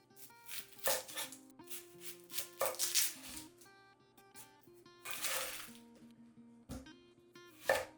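A knife cutting an onion in half on a cutting board in a home kitchen, heard as a few crisp, close chopping knocks over faint music-like background tones, with no talking.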